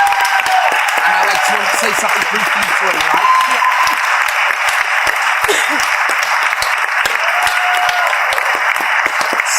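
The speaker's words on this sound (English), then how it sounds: "can we please have a massive round of applause for Scott?" Loud, sustained audience applause and cheering for a talent show contestant at a Welsh talent search, filling the whole stretch while a host speaks over the noise.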